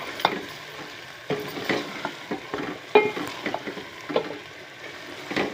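A spoon stirs garam masala, capsicum and red chili powder in a frying pan: irregular scraping strokes and soft clinks over a low, steady sizzle, close and clear, with no talking.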